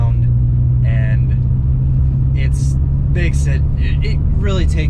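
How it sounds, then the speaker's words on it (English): A project car with a bad exhaust leak and a loose, rattling exhaust rumbles steadily with a deep, continuous drone, while a person talks over it throughout. "it has a pretty bad exhaust leak, and the exhaust kind of rattles around"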